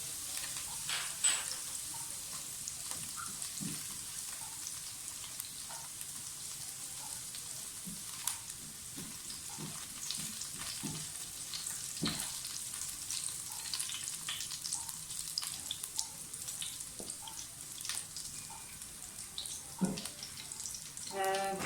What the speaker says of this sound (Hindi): जो लहसुन हमने रखा था क्रश किया हुआ वो डाल दें।